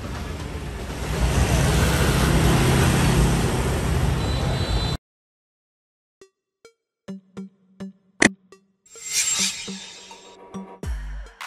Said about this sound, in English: Mini bus. Mini bus.